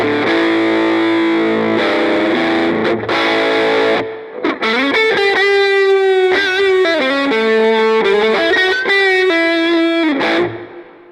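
Distorted lead guitar through the Line 6 Pod HD500X Canterbury Lead preset into a Vox-style amp, captured with a ribbon mic, playing loud sustained rock notes and bends with brief pauses between phrases.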